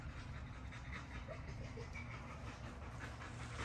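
American Bully puppies pant in a continuous, breathy rhythm close by, faint and low in level over steady background noise, with no talking.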